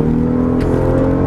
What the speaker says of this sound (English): it's a nice, smooth twin turbo V12 roar